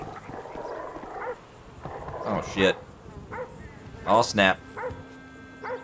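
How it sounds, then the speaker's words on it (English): Dogs bark in the game GTA 5, with a few short, sharp barks spaced out over several seconds, mostly buried under someone talking and reacting. "I hear dogs."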